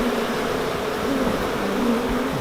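A large swarm of about forty thousand honeybees, crawling up a brick wall from the ground toward a new hive, drones in a dense, steady buzz that stays close and unbroken throughout.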